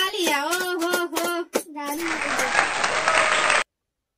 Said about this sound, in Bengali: ও তালিয়া তালিয়া তালিয়া।